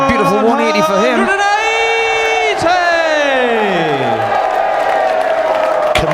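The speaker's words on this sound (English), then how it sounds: "180! Committed and passionate crowd." A passionate darts crowd at the 2020 World Championships quarter-final roars and chants after a 180, loud sustained cheering and singing voices filling the hall.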